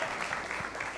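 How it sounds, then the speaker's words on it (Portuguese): A church audience claps for about a second, a dense, even patter of many hands at moderate loudness with no voices over it. "Uma salva de palmas para eles dois"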